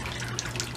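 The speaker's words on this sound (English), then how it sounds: "I got the waterfall here too." Decorative indoor waterfall at a hibachi restaurant, a brief steady splashing trickle of falling water, moderately close with light droplet sparkle and no talk.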